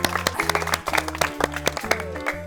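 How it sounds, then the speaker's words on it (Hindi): An audience at a tyre goal challenge event claps in a burst of applause, mixed with loud background music. "चलिए जोरदार ताली मारिए इनको लिए।"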